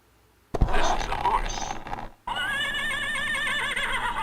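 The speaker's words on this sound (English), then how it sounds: "it's like there's a horse outside my window there" A horse neighs outside a window in a loud, wavering whinny that runs for nearly two seconds after a burst of louder mixed noise and voices.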